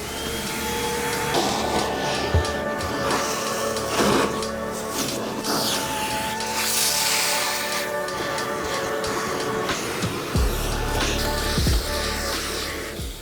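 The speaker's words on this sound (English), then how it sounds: "I'm gonna take out the shoe tree and simply vacuum up the insides." A vacuum cleaner runs steadily up close inside a sneaker, its whine shifting slightly as the nozzle moves and bumps around, with occasional scraping thuds.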